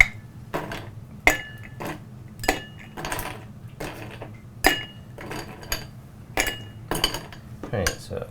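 A cocktail stirred over ice to chill it, with a bright metallic clinking of spoon against ice and glass in an irregular series of near, crisp knocks.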